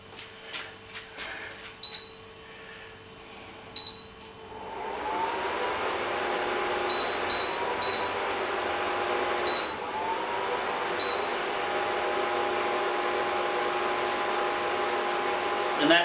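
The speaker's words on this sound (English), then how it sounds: "It's got a whopping fan in there that just runs no matter what." Loud cooling fan of an induction cooktop during a home brew day, starting after a few faint beeps and then running as a steady broadband whoosh with a low hum underneath, close and constant to the end.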